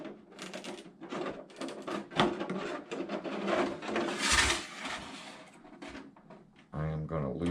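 Scissors cutting straight lines through a clear plastic Traxxas Drag Slash RC car body, heard as irregular close crackling and crunching snips with a voice talking in between.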